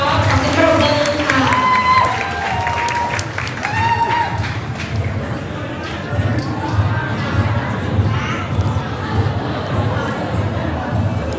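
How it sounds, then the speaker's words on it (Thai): Audience applause and crowd noise at a university open house event, a busy mix of clapping, chatter and cheering with voices and music-like tones over it, continuing at a steady level throughout. "ขอเสียงปรบมือค่ะ"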